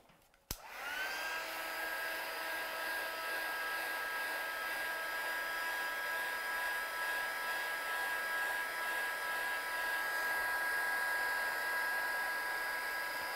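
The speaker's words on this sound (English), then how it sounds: "So let's just heat set that one." A heat tool switches on with a click and then blows a steady, close whooshing hum while heat-setting pale stamped ink on a handmade card.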